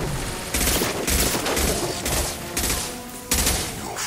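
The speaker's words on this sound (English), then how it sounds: "Firing a high impact shot." Repeated high-impact gunfire bursts from the video game Mass Effect 2, four or five loud, close volleys coming in irregular succession over continuous combat noise, with no voices.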